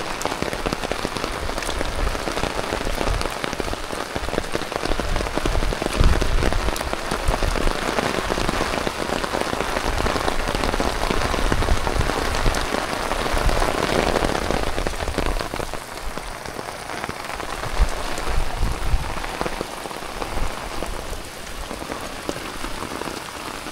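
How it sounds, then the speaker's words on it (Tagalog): Heavy rain pouring down during a typhoon on a rural cornfield, a dense, loud, steady roar of drops hammering a nearby surface, continuous throughout with no talk. "Sobrang lakas ng ulan, no?"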